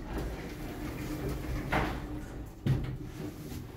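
Doors of a 30-person Oakland lift close at a shopping centre in Plymouth, with a soft sliding sweep followed by a muffled thud, set against a low, steady indoor hum.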